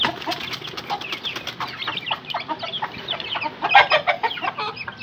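Aseel chickens cluck and chatter busily while pecking at chopped vegetables such as tomato and mint, a close, continuous flock of overlapping soft calls with some wing flutter.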